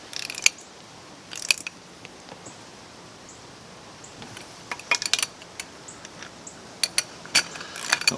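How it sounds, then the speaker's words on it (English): A ratchet fitted with a length of tubing on its handle clicks in short bursts while tightening bolts on a 2018 Tohatsu 20 hp outboard, with crisp metallic ticks close by and quiet gaps between strokes. "I'm going to use a little piece of tubing on the ratchet handle"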